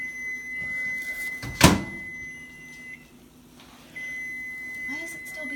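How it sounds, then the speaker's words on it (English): A kitchen microwave oven gives a sustained high electronic beep that stops briefly and then resumes, with a short loud thunk of its door in between and quiet room noise around it. "Why is it still beeping?"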